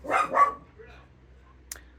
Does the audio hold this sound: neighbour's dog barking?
yes